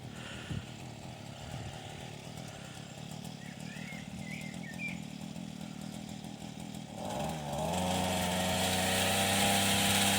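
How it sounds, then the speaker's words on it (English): Mini chainsaw head fitted to a strimmer cutting hedge branches, first a distant rough engine buzz, then revving up louder and close into a steady high drone. "today he's got a mini chainsaw on it so we can reach the top of the branches"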